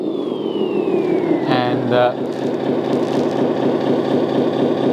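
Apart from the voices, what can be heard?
simulated engine sound from LESU RC truck sound system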